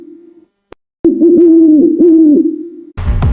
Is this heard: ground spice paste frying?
no